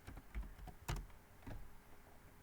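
Quick, light keystrokes tap out on a computer keyboard in an uneven run, quiet and close with no voices.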